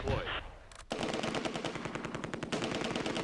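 Loud, sustained machine-gun fire rattles in the WWII strategy game Close Combat: A Bridge Too Far, a rapid burst of shots following a brief muffled lead-in.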